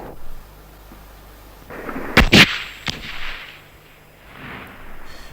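A 3.5-inch bazooka, an aluminium-tube rocket launcher, fires with a sharp blast made of two loud close cracks. A rushing roar follows and trails off, then fainter rumbles echo afterward.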